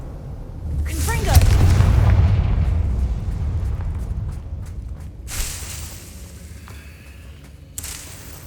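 Confringo fire-spell blasts go off in the video game Hogwarts Legacy: a loud, rumbling explosion swells near the start and rolls on for several seconds, followed by fainter scattered bursts and crackles.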